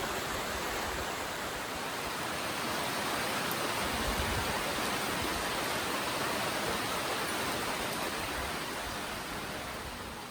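Heavy rain pours steadily onto a flimsy sun shelter beside Beaver Creek in Camp Verde, Arizona, a dense, even wash of noise that stays loud and constant throughout with no talking.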